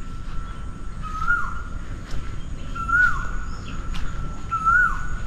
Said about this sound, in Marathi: इथून आतमधूनच कोकिळ्यांचा वगैरे आवाज येतोय